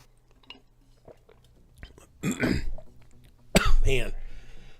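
A man coughs in two hard bursts, the second louder and more broken, while streaming the mech combat game Mechwarrior Online, with faint low background hum and a few small mouth noises in between.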